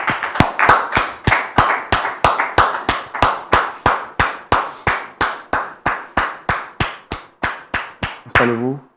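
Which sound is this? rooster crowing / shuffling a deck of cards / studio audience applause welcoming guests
studio audience applause welcoming guests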